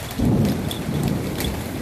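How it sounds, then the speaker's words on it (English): Deep thunder rumbles through a steady rainstorm, a low roll swelling near the start and fading under constant hiss of falling rain, with no voices. "Ah, the thunder."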